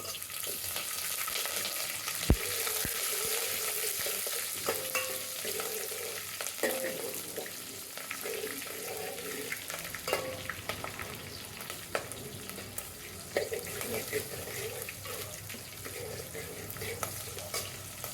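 Green chillies sizzle and fry in a hot pan for a carrot chitranna lunch dish, with a steady crackle broken by scraping stirs and occasional clinks of the spoon against the pan.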